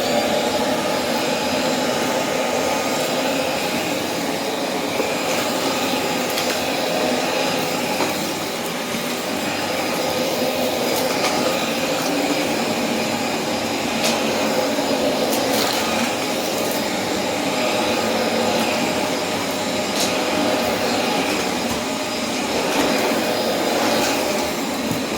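A vacuum cleaner drones steadily for the whole stretch, a loud, constant whooshing motor roar as it picks up dust and dirt, with faint rattles of debris and no talk.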